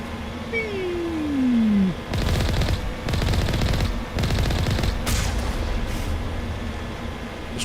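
Rapid automatic gunfire in Mass Effect Legendary Edition, several loud sustained bursts separated by short pauses, after a descending electronic whine.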